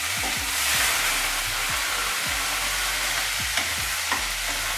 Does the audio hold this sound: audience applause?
no